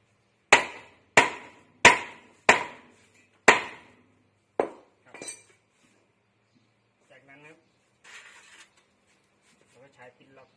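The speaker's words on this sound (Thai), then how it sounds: "เราจะใช้ค้อนนะครับ ที่มีน้ำหนักตีตรงนี้ครับ" Six heavy metallic hammer blows on a shaft seal in a steady rhythm, loud and close, followed by quieter clinks and soft handling noises.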